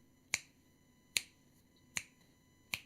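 Four crisp finger snaps at a live poetry event, evenly spaced about a second apart, sharp and close with quiet room tone between them.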